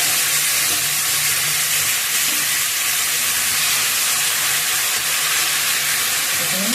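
Chickpeas hit hot oil with cumin seeds in a home kitchen pan and set off a loud, continuous close-up sizzle and hiss that stays steady from start to finish, with no voices.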